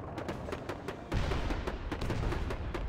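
A Soviet S-51 artillery gun in a mobile real-time strategy game fires amid a rapid series of sharp cracks, then a heavy, loud boom lands midway and rumbles on under continued crackling gunfire, with no voices.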